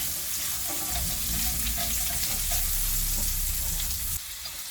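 Sliced red onions tempering in a pan for a traditional Sri Lankan fish stew, a steady close sizzle and frying hiss with light stirring, quieter in the final half second.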